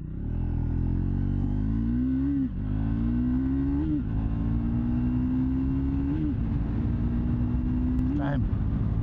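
A 2024 Triumph Speed 400 motorcycle engine revs and accelerates through several gears, its pitch climbing repeatedly with short dips at each shift, loud and close throughout.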